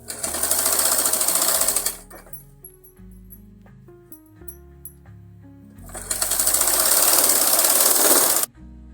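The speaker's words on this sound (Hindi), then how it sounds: "अब इसमें हम फिटिंग की सिलाई लगाएंगे।" A sewing machine stitches a fitting seam on a kurti sleeve in two loud, close bursts of fast mechanical whirring, with a quieter gap of small handling noises between them.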